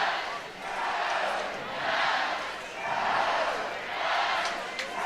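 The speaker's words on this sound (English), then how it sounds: "Another sold-out crowd at the Jane in Eugene." A sold-out crowd at a college softball stadium in Eugene, Oregon cheers and roars in rolling swells, distant and reverberant, rising and falling in waves throughout.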